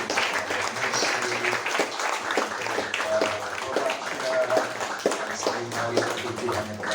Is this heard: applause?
yes